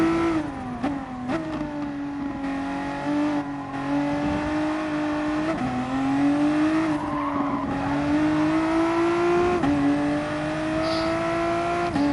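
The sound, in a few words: VW car driving on Nürburgring GP circuit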